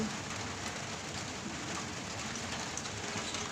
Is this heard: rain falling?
yes